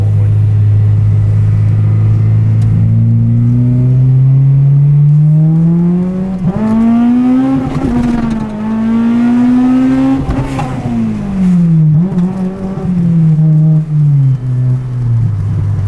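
A Honda Integra Type R with new headers and a 3-inch catback exhaust revs hard and loud, its pitch climbing repeatedly through high-rpm pulls into VTEC, with rising and falling engine sweeps and no talking.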